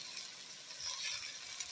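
Carrots go into a pan of mixed vegetables, and a bright, continuous sizzle fills the moment, close and steady, swelling slightly partway through.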